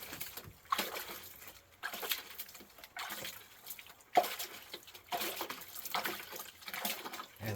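Water splashes and sloshes in bursts as gold concentrates are panned at a riverside, irregular wet splashes rising and falling every second or two, fairly close, with no talk.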